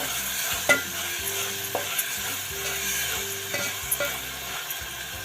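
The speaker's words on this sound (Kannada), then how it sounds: "ಶುಂಠಿ ಬೆಳ್ಳುಳ್ಳಿ ಅದನ್ನು ಹಾಕ್ತಾಯಿದ್ದೀನಿ. ಹಸಿ ಸ್ಮೆಲ್ ಹೋಗೋವಾಗ ಫ್ರೈ ಮಾಡೋಣ." Ginger and garlic fry in a pan for an egg masala curry, giving a steady low sizzle with repeated scraping and stirring strokes and a few light clinks of utensil against the pan. No voices are heard.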